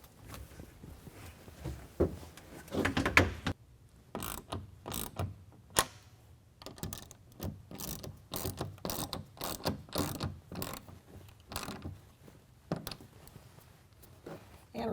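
Clamps of a Bak Revolver X4s hard roll-up tonneau cover on a 2020 Jeep Gladiator are tightened from underneath, with a run of quick ratcheting clicks and mechanical ticks in close, uneven bursts.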